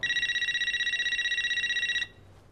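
A telephone rings with a rapid, continuous electronic trill for about two seconds, then stops abruptly, leaving faint room noise.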